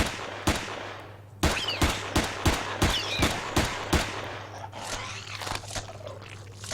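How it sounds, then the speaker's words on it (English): Pistol shots in Empyrion Galactic Survival ring out as a rapid run of about ten sharp, evenly spaced cracks, loud and close, followed by a fading tail of game ambience with no talking. "much more realistic sounding pistol"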